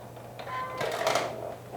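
A domestic sewing machine stitches a small V-shaped seam at a skirt pocket, a steady mechanical whirr of a few seconds' run, close and moderately loud, alone with no talk.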